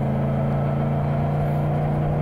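A motorcycle on Pirelli Angel GT2 tyres cruises at around 50 km/h on a wet winter road, its engine a loud, steady, close drone with a constant low hum and no break.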